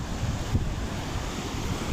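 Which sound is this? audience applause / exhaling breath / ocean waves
ocean waves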